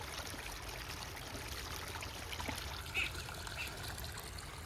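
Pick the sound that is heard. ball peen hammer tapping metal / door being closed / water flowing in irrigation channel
water flowing in irrigation channel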